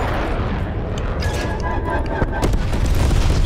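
A heavy, sustained rumbling blast from a proximity mine explosion in Black Ops Cold War, loud and close, with layered game noise around it.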